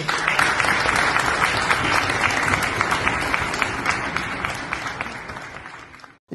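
Audience applause after a speech on terrorism and the Kashmiri community: sustained, dense clapping from a large crowd with crisp individual claps standing out, holding steady then tapering off before cutting out abruptly.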